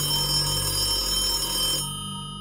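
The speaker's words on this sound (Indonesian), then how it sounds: "Deringan telepon rumah seketika menyela keasikan obrolan di sebuah keluarga di malam itu" A home telephone ringing at night, a steady electronic bell tone that rings on and then cuts off near the end, fairly loud and alone.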